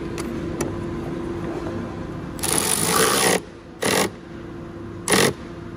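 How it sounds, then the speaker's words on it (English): Screws are driven back into the outer rear brake light lens of a Renault Kadjar, a cordless driver whirring in three bursts: a long run followed by two short ones, close by, over a steady low background hum. "we're literally going to put these two screws back in."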